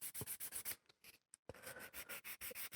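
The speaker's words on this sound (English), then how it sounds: "by just sanding it down ever so slightly, getting that shiny plastic feel off" Sandpaper rubbing a plastic guitar nut for a pine guitar build, a quiet, close, rapid series of rhythmic scratchy strokes with a brief pause in the middle.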